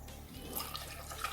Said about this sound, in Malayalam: കുറച്ച് വെള്ളം ഒഴിച്ചാൽ മതി.